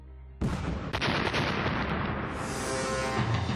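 Dynamite blasting at a giant dam construction site in China: a sudden heavy boom erupts and then rolls into a sustained rumbling roar of debris and echo.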